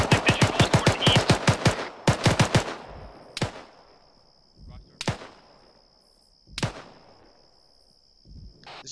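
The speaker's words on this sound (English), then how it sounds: "I hear mortars firing" Rapid bursts of loud gunfire crackling in quick strings during a military field exercise, then slower single booming shots spaced a second or more apart, close and sharp with rolling echoes.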